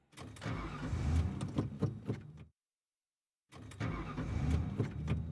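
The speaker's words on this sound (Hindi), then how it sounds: "ये गाड़ी क्यों नहीं स्टार्ट हो रही है?" A car engine cranks over and over but fails to catch, two loud, close bursts of churning starter noise separated by about a second of silence.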